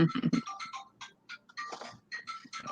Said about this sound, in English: He's trying to pick a ringtone on his new phone.